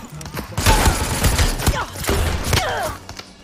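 Rapid gunfire bursts in the battle royale game Super People, loud and dense with thuds and mechanical clatter, a steady fusillade over about three seconds.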